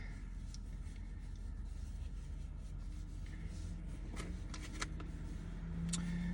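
Fabric rustles and rubs softly as a shirt is folded down and stretched inside a car, a faint, continuous brushing with a few sharper crinkles and snaps toward the end.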